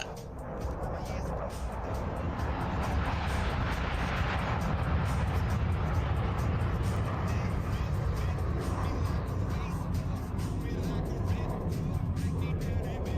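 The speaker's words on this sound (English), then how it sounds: "Watch from the right as Wolf demonstrates the Silver Star's top speed in a level high-speed pass." Silver Star jet aircraft making a level high-speed pass at an airshow near top speed, a loud sustained broadband roar that builds over the first few seconds and holds steady throughout.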